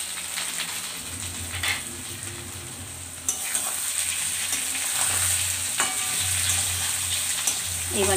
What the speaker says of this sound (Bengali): এবার আমি এর সঙ্গে ভালো করে পেঁয়াজের সঙ্গে আর এক মিনিট মতো ভেজে নিব।